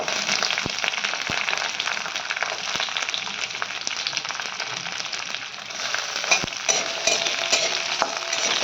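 Onion frying with chopped ginger in a pan for chilli chicken gravy, a steady bright sizzle close up, broken by occasional sharp clicks of a stirring spoon against the pan.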